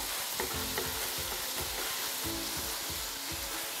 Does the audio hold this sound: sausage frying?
yes